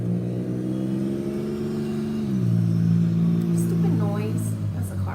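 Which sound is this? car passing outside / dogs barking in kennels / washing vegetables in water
car passing outside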